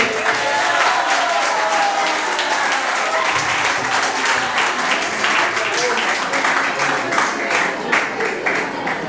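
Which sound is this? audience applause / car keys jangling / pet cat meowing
audience applause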